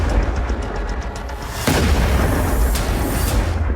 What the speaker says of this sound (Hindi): ये तस्वीर देखिए, मिसाइल आकर गिरती है और तेज धमाका होता है।